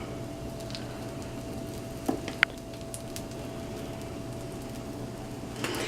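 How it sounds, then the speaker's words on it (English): Keto French toast frying in a pan gives a soft, steady sizzle, with a few small pops and crackles. "Look at that sizzle."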